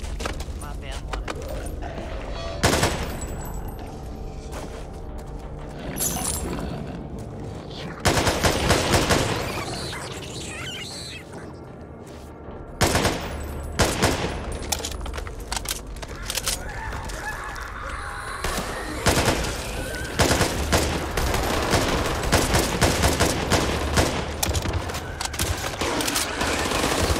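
Rapid bursts of gunfire from the video game Back 4 Blood crackle in dense volleys with loud broadband shots and brief lulls, layered with game sounds and occasional voices.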